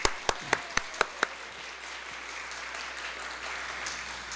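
Audience applause at a 2020 Census town hall meeting in Erie County: a few sharp, distinct claps open it, then a steady wash of crowd clapping and murmur carries on at moderate level.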